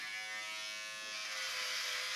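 An electric razor buzzes steadily and close while shaving a head, a dense continuous whir that grows slightly harsher as it cuts through the hair, with no talking.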